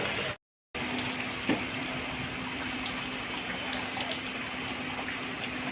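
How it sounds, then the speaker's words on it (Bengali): Steady running water from a tap rinses freshly cut young jute leaf greens, a continuous close splashing flow that plays alone after a brief silent gap at the start. "আমার শাকটা কাটা হয়ে গেছে এখন আমি শাকটা ধুয়ে নিয়ে"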